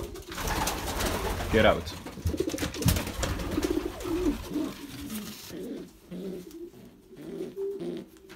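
Pigeons coo steadily in a breeding loft with young birds recently hatched, the soft repeated calls running throughout, with a voice briefly speaking over them near the end.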